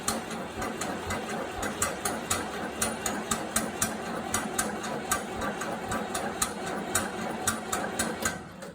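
A 1974 Ford 3000 tractor engine cranks over and catches, its rhythmic mechanical knocking running steadily and fairly loud, with no talk.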